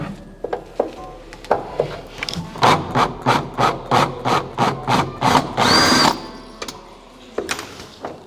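A cordless screwdriver backs old slotted screws out of large cabinet doors, its motor whirring in a steady run of about ten short pulsed bursts, close and loud, then a longer whine before stopping.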